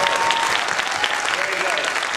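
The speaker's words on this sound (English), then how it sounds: "So how about a big round of applause for the engaged couple?" A theater audience applauds an engaged couple with loud, sustained clapping that fills the room from start to finish, and a voice can be heard faintly underneath.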